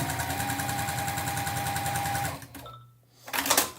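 A sewing machine stitches Ohio Star quilt blocks with a steady, rapid mechanical whir close by, then stops briefly before a short burst of stitching resumes.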